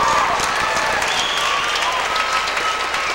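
Crowd at a 1991 girls' high school state swimming and diving final applauds a forward pike dive, steady dense clapping filling the hall throughout, loud and sustained without a break.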